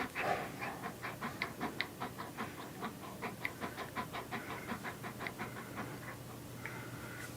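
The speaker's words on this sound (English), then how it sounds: "can you hear him breathing?" A warm dog pants close by in a steady, quick rhythm of soft breathy huffs, roughly three per second, continuing throughout over a faint background hum.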